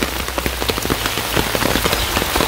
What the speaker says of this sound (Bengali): কমসে কম 1 ঘন্টা যাবৎ বৃষ্টি হইতেছে। মোটামুটি ভালো বৃষ্টি বলছে।